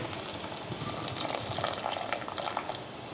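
Water being poured into a pot of partially cooked rice on a stovetop burner, a soft steady splashing and trickling with gentle bubbling, fairly quiet and close, no talk over it.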